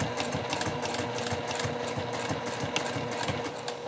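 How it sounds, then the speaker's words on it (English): Sewing machine stitching a line through a leather bag, a fast steady mechanical chatter of needle strokes running continuously at close range with no talking. "I can just go back and do another line of stitching in here"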